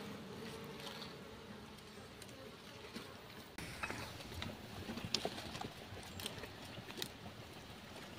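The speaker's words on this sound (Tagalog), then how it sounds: "Para makita nyo kung gaano karami ang bubuyog sa loob." Bees buzzing inside a wild hive, a faint continuous drone with scattered rustles and knocks nearby, low in level throughout.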